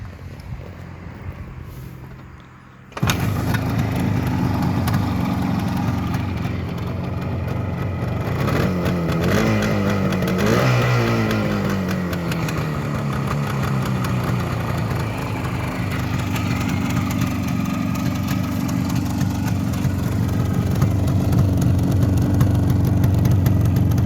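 A 1974 Suzuki T500 Titan two-stroke motorcycle engine kicks over, catches after a few seconds and settles into a loud, close, uneven idle with a buzzy rhythm and brief throttle blips near the start.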